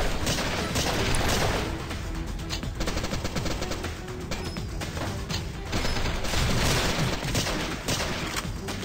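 Sustained rapid gunfire from a gun in the Sift Heads Reborn game rattles continuously, loud and close, with dense overlapping shots and mechanical clatter throughout.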